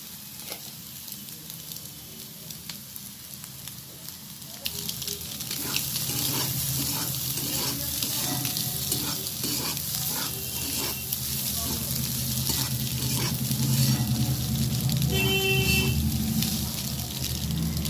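Steady sizzling of bottle gourd peels frying in a pan with grated boiled egg, growing louder partway through, with faint scraping and clinks over the continuous hiss.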